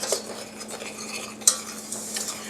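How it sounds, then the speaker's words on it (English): A sugar and cornstarch mixture is stirred by hand to work out its lumps for a dark chocolate pie filling: quiet, soft scraping with one sharper clink partway through, no talking. "go ahead and stir this together and get all these lumps out"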